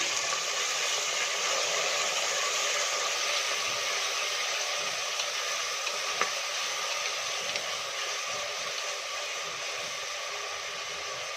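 Sliced onion and tomato fry in a pan with a steady, even hiss of sizzling oil, close and continuous with one faint click midway and no talking.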